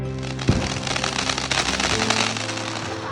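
Diwali firecrackers and fireworks going off in a continuous dense crackle with a sharp bang near the start, loud and close with steady popping throughout and no talk.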